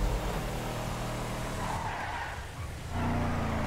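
Car tires skid and scrape in GTA Online as the vehicle rolls over twice, a loud continuous squeal and grinding rumble with engine noise, shifting in pitch and swelling again at the end.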